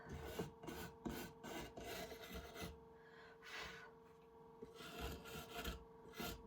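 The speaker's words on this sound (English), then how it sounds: "We'll get some sanding done on it." Maple or aspen wood is sanded by hand in repeated rasping strokes, a steady scratchy rhythm with a brief pause midway.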